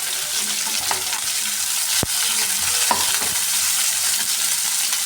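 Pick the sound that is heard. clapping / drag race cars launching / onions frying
onions frying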